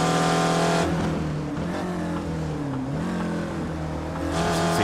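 Race cars roaring at Lime Rock Park, a spec Ford and a Skip Barber car battling into turn 1, engines loud and sustained with shifting revs, overlapping pitches and slight tire noise throughout.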